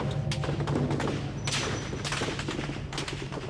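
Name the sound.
gunfire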